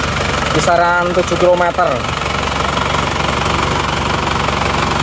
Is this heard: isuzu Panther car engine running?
yes